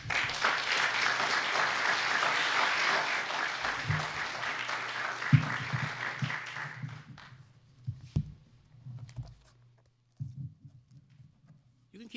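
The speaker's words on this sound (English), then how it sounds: "You can keep clapping" Audience applause for a county executive at a State of the County address, dense sustained clapping for about seven seconds that then fades to a few scattered claps and a speaking voice.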